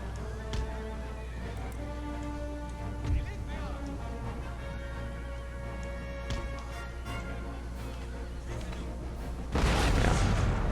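Cannon artillery fire booms in a Spanish campaign of a historical strategy game, with scattered distant shots under a steady battle din and a louder burst near the end, while someone talks over it.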